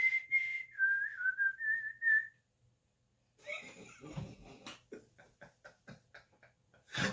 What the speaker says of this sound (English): I'm gonna pop up with some random whistling.